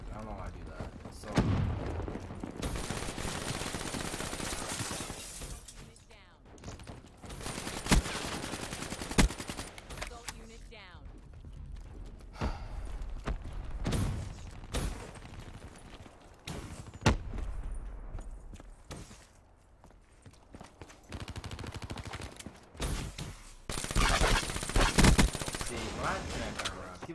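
Gunfire in a shooter video game, rapid automatic bursts and single shots in repeated clusters with explosive thuds, with a player talking over the action.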